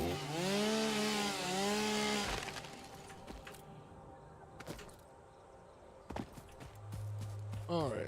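A chainsaw in a factory-building video game cuts down trees with a loud, revving buzz that runs for about two seconds and then cuts off, followed by scattered clicks and thuds.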